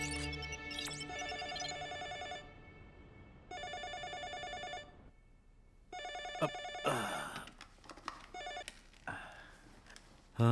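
A telephone rings after a number is dialed at night, repeated electronic ring bursts with pauses between them, then a handset clicks and other sounds follow.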